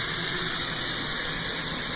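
Tap water gushing steadily into a pot being filled to boil farro in a home kitchen, a continuous bright rushing stream heard close and alone.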